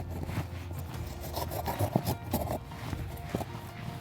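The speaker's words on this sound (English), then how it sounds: "I'm going to go ahead and cut this box straight down the center" A blade cuts straight down the center of a cardboard box, making close, uneven scraping and rasping strokes with small crackles.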